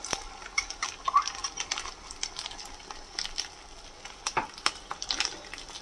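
Dried fish fries in a pan with spice, giving a faint, uneven sizzle broken by light clicks and stirring taps, with no voices over it.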